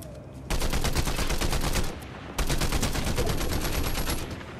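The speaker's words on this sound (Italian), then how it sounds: "Ma chi è che spara così?" Rapid automatic gunfire in a Fortnite battle royale squad match, two long loud bursts of fast repeated shots separated by a brief pause.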